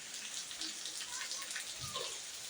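Summer downpour with water running from a gutter: dense, close patter of drops and a continuous rushing flow, steady throughout.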